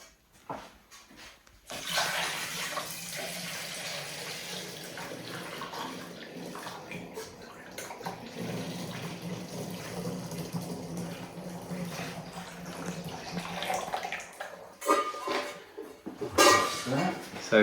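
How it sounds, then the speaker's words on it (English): A honey and water mixture for dandelion and Douglas fir mead is poured into a demijohn, a steady gushing, splashing stream running for over ten seconds with occasional clinks, close by. "Put everything into the demijohn."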